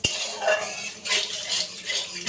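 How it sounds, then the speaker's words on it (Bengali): Cumin seeds and bay leaf being stirred in hot oil in a pan: a sharp metallic clink, then scraping and rattling of a utensil against the pan over a light sizzle, in uneven bursts. "জিরে তেজপাতা ফোড়ন দিয়ে একটু নাড়াচাড়া করে দিচ্ছি"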